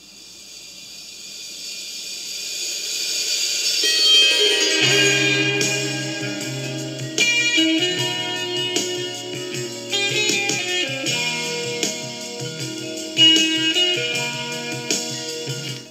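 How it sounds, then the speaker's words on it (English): A sitar-like, shimmering intro opens a 1976 Finnish jazz-rock track, rising from a faint hiss into bright plucked, twangy notes, with low instruments joining partway through as the music builds steadily. "The very first sound you hear is that Eastern Exotica flavor with that sitar sound."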